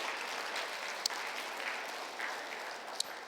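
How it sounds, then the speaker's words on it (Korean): Church congregation clapping together at a Sunday worship service, a steady, fairly faint wash of applause that runs evenly throughout with a couple of sharper claps standing out. "주위에 있는 분들 한번 박수로 서로 격려하고 환영하는 시간을 갖겠습니다"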